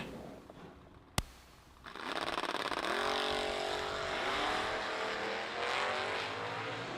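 Drag racing cars launch side by side down a drag strip at a winter warm-up event, one called the Mighty Monza. A sharp crack is followed by a rising, sustained engine roar heard from a distance.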